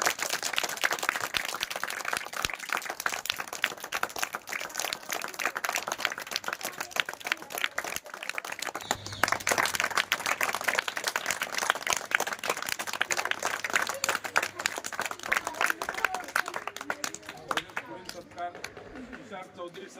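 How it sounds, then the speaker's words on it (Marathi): An audience at a school teachers' felicitation event claps steadily, a dense continuous patter of many hands, with a voice speaking over the applause partway through. "जोरदार टाळ्या वाजवा तुमच्या शिक्षकांकरता."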